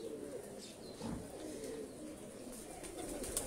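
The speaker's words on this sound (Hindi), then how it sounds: "ये उड़ने वाले कबूतर है।" Flying pigeons coo softly in a breeder's loft in Lahore, a few low murmuring calls over a steady background hum, near and fairly quiet, without speech.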